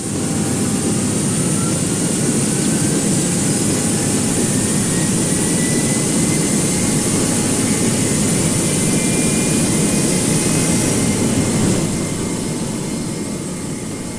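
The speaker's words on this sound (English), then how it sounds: "if we go ahead, start our engines" Jet engines of a Virgin Airbus A330-900neo in the GeoFS flight simulator game, running at a steady, loud roar with a broad rumble and a high whine that holds throughout, easing slightly near the end.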